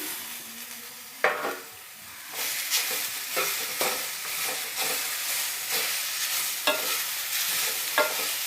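Cluster beans frying with masala and onion in a pan, a constant crackling sizzle punctuated by regular scraping stirs of a spatula, close and fairly loud, with no speech.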